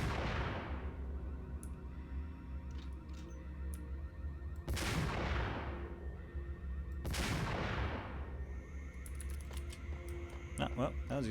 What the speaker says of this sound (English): Them motherfuckers are letting those grenade launchers sing